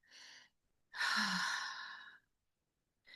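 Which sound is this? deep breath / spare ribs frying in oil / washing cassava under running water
deep breath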